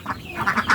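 Several short quacks from caged laying ducks kept in a pen, close and fairly loud in quick succession with no talking.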